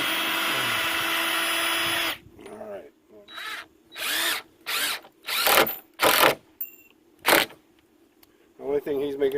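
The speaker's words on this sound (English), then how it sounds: "We'll go ahead and pre-drill, and then we'll come back with some coated deck screws and sink them." A power drill pre-drills holes in wooden deck boards: one sustained whir, then a run of short, close, loud bursts with brief pauses between them.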